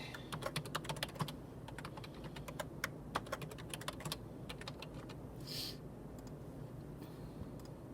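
A password is typed on a computer keyboard in quick, irregular bursts of close, crisp key clicks, fairly quiet, with brief pauses between runs.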